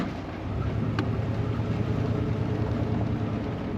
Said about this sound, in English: this is official Sonoran Desert driving right here